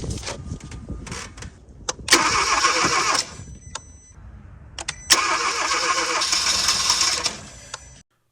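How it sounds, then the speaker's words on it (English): A Kia Forte engine cranking with its rear fuel line removed, two loud bursts of rapid starter whirring separated by a short pause, each cutting off abruptly without catching. "it tried to start with the main source of fuel or the rear fuel line removed"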